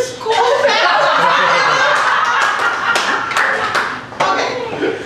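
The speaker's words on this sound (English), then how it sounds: "I am not used to people clapping me" An audience claps during a talk, a dense burst of applause with scattered chuckles and laughter, near and fairly loud, with some voices mixed in.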